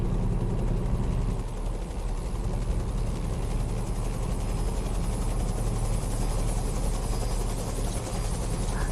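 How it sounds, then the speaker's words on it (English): A helicopter drones steadily and loudly for the whole stretch, a dense low rotor rumble with no pauses and no voices, heard while a driver heads eastbound on a trip toward Myrtle Beach, South Carolina. "Helicopter in my ear."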